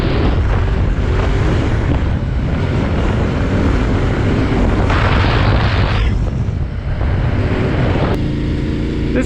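A Yamaha Tenere 700 motorcycle accelerates hard, its engine a loud, sustained roar close by with wind rush throughout and a shift in pitch partway through.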